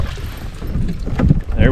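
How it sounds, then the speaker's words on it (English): Small waves from a passing boat's wake lap and slosh against a fishing kayak on a New Brunswick lake, close and irregular, under light wind noise and some movement, with the splashes building toward the end. "Waves coming in from the boat."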